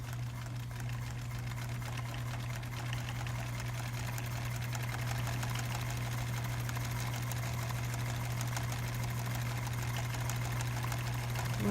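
A sewing machine top-stitches a double folded hem on a backpack, running in one continuous, fairly quiet whir with a steady motor hum throughout and no pauses.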